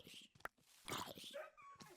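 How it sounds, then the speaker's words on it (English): A Minecraft dog gives a few high, faint whimpers and whines from the game, mixed with other soft game sounds and a voice murmuring underneath. "What is this whine about?"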